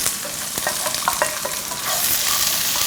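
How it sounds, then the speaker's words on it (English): Onions and fennel frying in ghee or oil in a non-stick pan, a steady loud sizzle with light stirring and scraping clicks throughout. "Fry this. Add in the onions."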